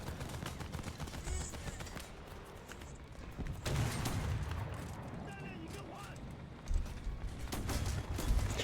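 Gunfire and booms in the War Thunder video game come as repeated bursts and heavier blasts at a moderate level. A player talks over the shooting.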